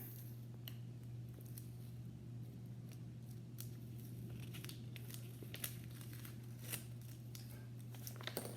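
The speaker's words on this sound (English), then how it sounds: "Take the tape off." Tape is peeled off a colored name tag up close, with continuous crinkling, crackling and tearing sounds and scattered sharp ticks over a steady low hum.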